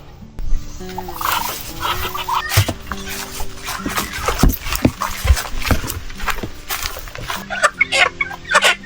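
Native chickens, Muscovy ducks and guinea fowl on a farm, a busy chorus of clucks, gobbling calls and scuffling moving around close by, with occasional talk mixed in.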